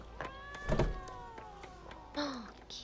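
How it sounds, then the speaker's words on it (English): A cat in The Witcher 3 gives a couple of short meows, one near the start and a clearer, falling one toward the end, over quiet ambient background. "Oh, kitty."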